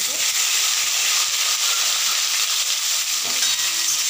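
Boiled potatoes sizzle in hot oil in a pan, a loud, steady hiss that fills the whole stretch without letting up.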